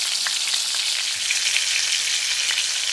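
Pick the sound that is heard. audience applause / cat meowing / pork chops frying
pork chops frying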